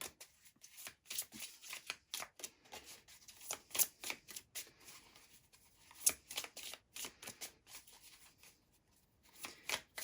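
Tarot cards being shuffled by hand, close up: a steady run of crisp papery riffles and slaps in uneven bursts, with one brief spoken word partway through.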